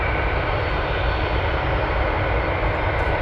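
A jet aircraft departs from runway 7 left at Anchorage, a dense, constant engine roar filling the short moment at steady loudness, with no talk.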